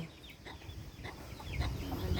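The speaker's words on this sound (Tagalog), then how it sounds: "Mga manok, dami oh." Several chickens cluck softly nearby on a farm in a loose, overlapping chatter over low background rumble, with no one speaking.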